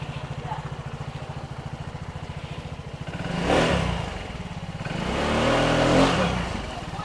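Motorcycle engine idling with a rapid, even putter up close, then revving twice in rising swells, with voices faintly underneath.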